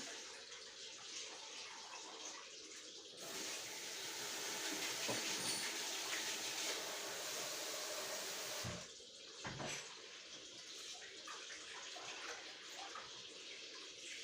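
Rice soaked in hot water is washed under running water, a quiet gush that swells for several seconds in the middle, with softer splashing and handling before and after.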